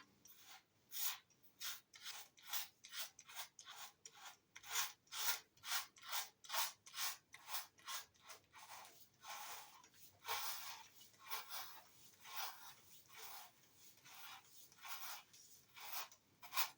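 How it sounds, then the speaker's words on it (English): A Gillette King C razor shaving a head gives close, rhythmic raspy scraping strokes, a steady run of quick passes that turn more continuous and smeared toward the end. "Making really light work of this head shave. Completely just gliding through with such ease."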